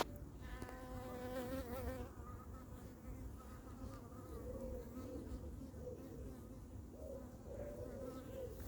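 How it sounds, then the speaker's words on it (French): Many honeybees buzz in a dense, continuous drone around a hive at an apiary, wings whining up and down in pitch as they fly close around, with faint voices underneath. "ce serait bien que les abeilles partent"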